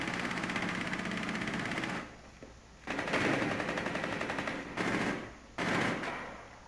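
Automatic gunfire in the video game Rainbow Six Siege, on a presidential plane map, rattling in long sustained loud bursts broken by two short pauses.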